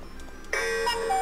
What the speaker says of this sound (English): there goes the timer